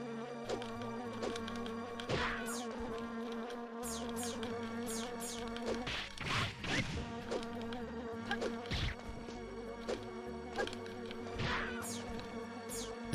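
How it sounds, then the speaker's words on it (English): Bees buzzing in a video game, a dense, steady drone of insect wings with several swelling passes as bees fly close, layered over a constant electronic game tone. "These bees are dangerous and all"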